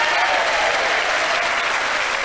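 A hyped studio audience at a televised game show bursts into loud, dense, continuous applause that stays at full strength throughout, filling the room without pause.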